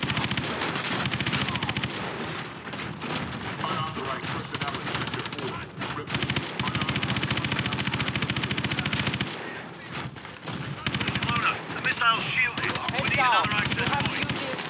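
The main gun firing in Call of Duty Advanced Warfare, dense rapid automatic bursts with booming impacts, loud and sustained, interrupted by brief pauses, with voices under the fire.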